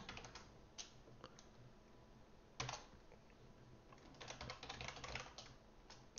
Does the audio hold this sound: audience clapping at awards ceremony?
no